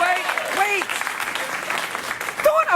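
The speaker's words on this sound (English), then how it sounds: "Don't applaud coffee." A late-night talk show studio audience breaks into applause, broad clapping that runs throughout while a voice speaks over it in short bursts.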